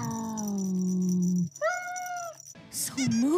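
A cartoon cat gives a string of meows, some drawn out and some short with a falling or rising pitch, loud and close, with a brief rattle between calls.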